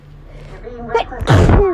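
A single hay fever sneeze, a quick indrawn breath building into one sharp, loud, close explosive burst at the end.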